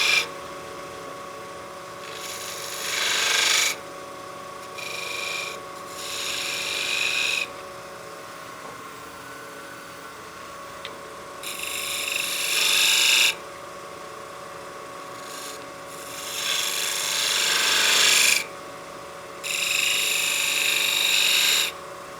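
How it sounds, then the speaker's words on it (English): A spindle gouge cutting a detail groove in wood spinning on a lathe, with repeated bursts of scraping hiss over the steady hum of the motor, close and moderately loud, no voice. "Come back in with my spindle gouge and give ourselves that little detail groove we had"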